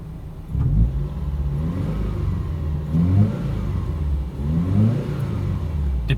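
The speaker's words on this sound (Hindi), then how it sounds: "टिपिकल बॉक्सर इंजन की आवाज़," Subaru Impreza boxer engine revving repeatedly, three or four rising throttle blips over a steady low idle rumble, close and clear with no talking.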